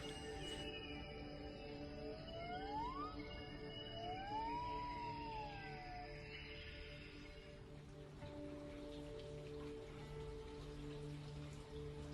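Steady patter of rain dripping through forest foliage in Janaki forest, Kuttiady, Kozhikode, with bird calls whistling over it in the first half before the drips continue alone.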